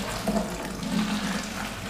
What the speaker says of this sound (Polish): I dolewamy ciepłej wody. Woda jest ciepła, nie gorąca.